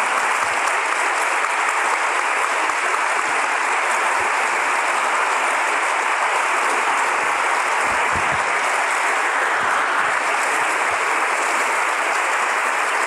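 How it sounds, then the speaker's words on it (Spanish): Loud, sustained ovation from a large audience honoring speakers after a psychoanalysis talk, dense continuous clapping close and full that stays at an even level for its whole length. "que es tributándoles un fuerte aplauso."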